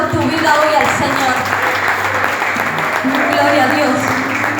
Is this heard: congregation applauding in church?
yes